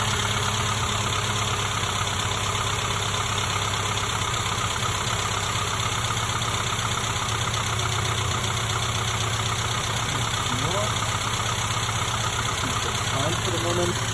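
A-series engine running at idle, then brought up to slightly higher revs, a steady close mechanical hum with constant vibration throughout and talk over it.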